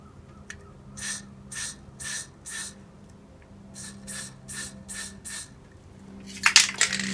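Montana or Molotow spray paint can hissing in a series of short bursts, about nine evenly spaced sprays of a second or so each, close and moderately loud, with a sharper rattle near the end.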